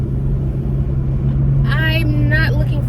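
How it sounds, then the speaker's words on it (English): A big truck passes close by on the road, making a loud, steady low rumble that fills the whole stretch, while someone talks over it. "A big ass truck. Let me just wait for it to go."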